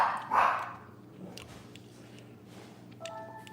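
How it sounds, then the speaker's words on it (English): Dogs bark once loudly near the start, followed by a fainter yip or two against low indoor background. "Can you open the door so they stop barking"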